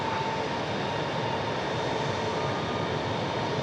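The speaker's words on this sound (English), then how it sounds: "this A321 is going to San Francisco on flight 1430" An Airbus A321 airliner, outbound for San Francisco, rumbles as a steady, moderately distant broadband roar from an outdoor plane-spotting spot near DFW airport, with no voices.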